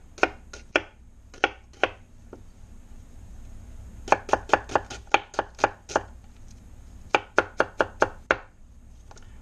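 A handheld chopper mincing onion, with quick sharp chopping strikes in short bursts and longer rapid runs, close and clear with no talking.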